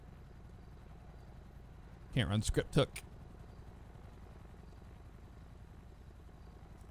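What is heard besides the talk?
helicopter flying overhead in a video game (GTA roleplay)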